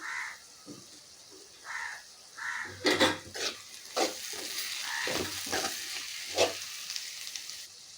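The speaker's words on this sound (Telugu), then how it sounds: "ఇందులోనే కొద్దిగా గరం మసాలా వేసుకున్నాం అలాగే కట్ చేసుకున్న కొత్తిమీర కడ వేసేసుకొని ఒకసారి కలుపుకుందామండి" Cabbage stir-fry with garam masala and chopped coriander is stirred in a pan, a series of scraping, clattering strokes over a low background sizzle, close and moderately loud.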